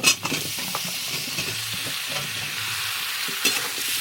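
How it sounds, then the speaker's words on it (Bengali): Bottle gourd being stirred into frying spices in a pan, a steady sizzle throughout with scraping strokes of the spatula, a louder clatter at the start and another near the end. "লাউগুলো দিয়ে একটু ভালো করে নাড়িয়ে দিতে হবে"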